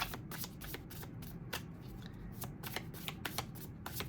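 A tarot deck is shuffled by hand in quick bursts of crisp, riffling card noise, with a few soft pauses between passes over a quiet room background.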